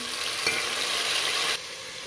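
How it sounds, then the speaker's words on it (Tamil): Tomatoes stir-fried in a pan with mint and coriander for chicken biryani, giving a steady, close frying hiss that drops a little in level partway through, with no voices. "நல்லா வதங்கிடுச்சு தக்காளி சேர்த்துக்கலாம்"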